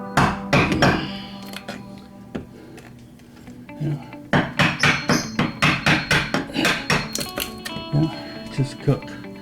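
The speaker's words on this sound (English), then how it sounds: "cut through with a chisel until you make good enough space for the cable." A chisel is hammered into a solid wood wall to cut a channel for light-fixture wiring, giving sharp, closely spaced metallic knocks in quick rhythmic bursts, loud and near, with a person speaking between blows.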